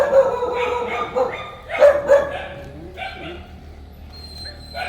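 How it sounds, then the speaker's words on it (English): Dog barks repeatedly at a mansion outside Manila, sharp bursts over a background of people talking, with more dogs nearby. "there's the trusty guard dog"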